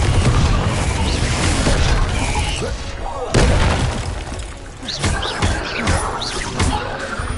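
Confringo explosion spell cast in the Hogwarts Legacy video game: a loud booming blast with crashing, shattering debris, followed by several smaller bursts and impacts amid game combat noise.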